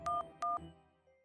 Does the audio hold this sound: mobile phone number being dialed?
yes